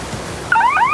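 Electronic 10-second buzzer at freestyle kayaking national team trials: a brief, loud warbling tone that starts halfway through, rising and falling over steady background noise from the venue.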